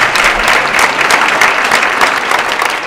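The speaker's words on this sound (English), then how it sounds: "Sarah Thomas, give her another big round of applause." A stadium crowd at a ladies' football clinic gives a loud, sustained round of applause for Sarah Thomas, dense clapping filling the space with no voices standing out.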